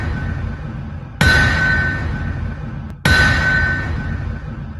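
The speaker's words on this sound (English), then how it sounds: "let's just ring the bell and go right on into it" A bell is struck twice to open a sports talk show, each strike ringing out sharply and then sustaining for over a second. The strikes are fairly loud and close, with no talk.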